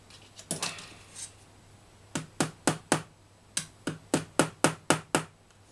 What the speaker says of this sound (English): and hammer away